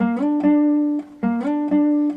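A bowed string slides up in a glissando passing through a D into a sustained note and is then restruck; the gesture plays twice, clear and close, with no talking.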